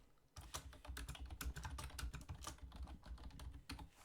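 Close, quiet typing on a computer keyboard, a quick irregular patter of key presses lasting a few seconds with no one speaking.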